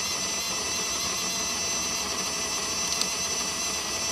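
A pink plastic battery-powered USB blender whirs steadily with M&Ms rattling inside, a constant high-pitched motor drone that holds level throughout.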